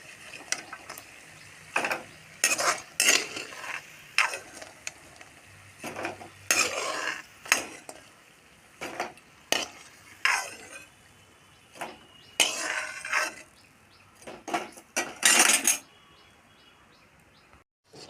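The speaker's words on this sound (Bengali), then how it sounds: "আমার ডালের বড়া ভাজা শেষ। এখন উঠিয়ে নেব।" A metal utensil lifts fried lentil and ash gourd fritters from a frying pan, producing intermittent close clinks, scrapes and rattles in short bursts separated by quiet pauses.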